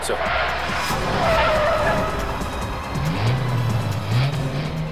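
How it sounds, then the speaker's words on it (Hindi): A car's tires squeal and skid as it swings around on a road in a police drama, a loud sustained screech with engine roar and rising pitched tire whine. "गाड़ी घुमा लो सचिन।"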